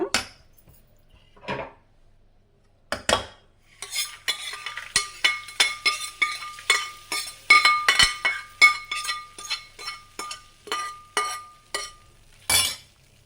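Tempering being added to oats curd rice and stirred in with a spoon, a run of quick close scraping and clinking strokes against a metal bowl after a few isolated knocks, with no talk.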